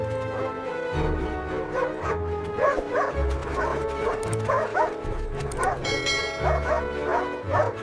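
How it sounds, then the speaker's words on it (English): A dog barks and yips repeatedly in short bursts, close and fairly loud, with whimpery high notes between the barks and no talk over them. "I see the dog."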